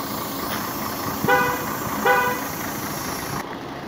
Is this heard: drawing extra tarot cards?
no